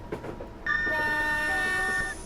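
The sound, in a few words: train horn in a video game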